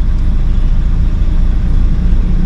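Heavy rumbling engine of a large truck in slow traffic just ahead, a loud steady low drone with no break, heard from inside a nearby vehicle.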